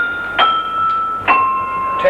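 A piano is played with a widely stretched hand, striking notes ten apart to imitate sheep bells: three evenly spaced bright strikes, each leaving a clear ringing tone that sustains until the next.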